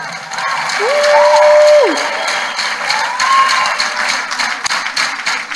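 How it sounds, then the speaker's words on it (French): An audience applauds during a church sermon: a continuous wash of clapping, fairly loud and steady, with a few faint tonal sweeps over it. "Acclame pour elles alors"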